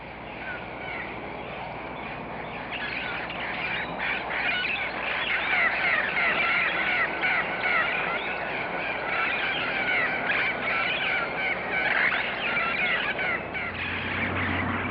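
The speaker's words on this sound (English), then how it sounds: "Today, all sorts of parrots are not only surviving here, but breeding." Feral parrots calling in Miami, many harsh squawks and screeches overlapping in a busy, steady chorus at moderate distance throughout.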